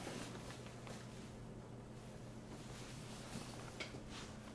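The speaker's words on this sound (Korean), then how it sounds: "바람 소리가 좀 들릴 수 있어요, 에어컨." An indoor air conditioner blows air as a faint, steady whooshing hiss with a low hum underneath, continuous and even throughout, without talking.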